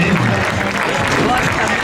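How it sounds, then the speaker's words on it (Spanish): A crowd applauds at a show-jumping event, dense continuous clapping held at an even level, with a voice on the public address speaking over it. "Ese fuerte aplauso, excelente."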